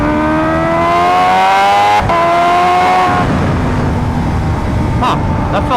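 A Kawasaki H2R motorcycle running on race fuel screams through hard acceleration in low gears, its engine note climbing steeply, dropping at a shift, then rising again, loud and close throughout.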